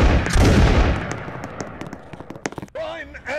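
A company of musket-armed soldiers in the Roblox game fires a loud, dense volley at once, followed by a scatter of sharp, fading shots and crackles, then a brief hum-like tone near the end.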